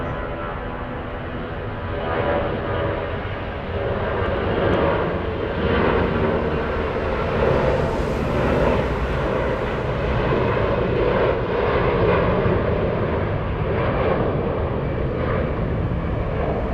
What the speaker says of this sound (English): This is Lufthansa Flight 420, an A340-300 en route to Boston.